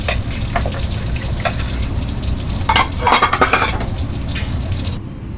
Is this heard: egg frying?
yes